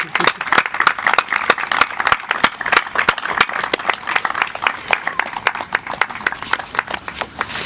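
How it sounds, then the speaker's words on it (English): Audience applauding school staff at the groundbreaking of an early learning center, with steady, dense clapping and sharp individual claps standing out close by, continuing throughout. "Let's give our staff a round of applause."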